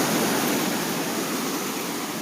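Ocean waves at a Santa Cruz beach make a steady, broad wash of surf noise, loud and continuous with no distinct breaks and no voices.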